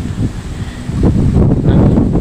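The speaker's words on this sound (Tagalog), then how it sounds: "gawa sobrang lakas ng amihan" Strong northeast monsoon wind buffets the microphone in loud, low gusts, rising and falling with a faint rustle of leaves underneath.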